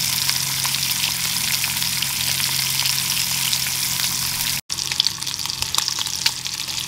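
Bacon sizzles steadily in a pan on a stove inside a camping school bus, a close, continuous hissing crackle with fine pops throughout and a brief dropout near the end.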